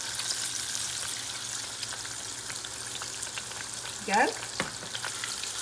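Green tomato slices frying in sunflower oil in a pan, a steady dense sizzle and crackle throughout, with a brief spoken word partway through.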